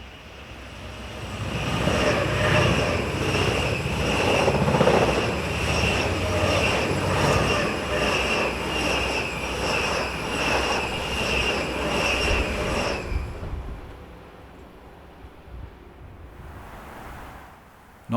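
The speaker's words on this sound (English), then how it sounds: "this Zurich-bound intercity train passes our camera." An intercity train bound for Zurich passes near Olten, Switzerland, a loud sustained roar of wheels and carriages with steady rhythmic clatter rushing by for about twelve seconds before dropping away to quieter background.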